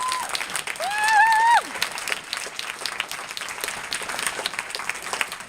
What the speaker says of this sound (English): A massive round of applause to David, Catherine and all the team for what they put on.